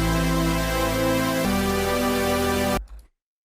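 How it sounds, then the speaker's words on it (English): A very basic Serum synth preset plays sustained carrier chords, a dense harmonic pad that changes chord once partway through and then cuts off abruptly into silence. "this is a super simple synth"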